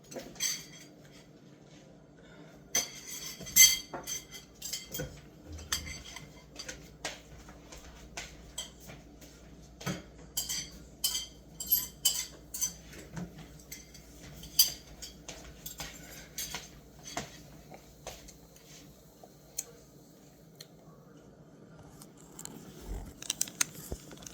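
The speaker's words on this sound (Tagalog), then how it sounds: "Mag-ugas tayo, guys, ng pinggan" Dishes are washed by hand: plates, pots and cutlery clink and clatter at scattered moments over a long stretch. The knocks are light and fairly faint, with short lulls between them and no talking.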